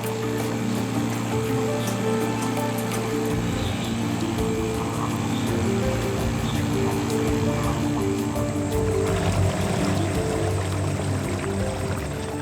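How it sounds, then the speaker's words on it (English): An outboard motor boat runs on a forest river in Guyana, its engine giving a steady, close droning hum with a rushing water wash underneath for the whole stretch. "the strange sound of an outboard motor"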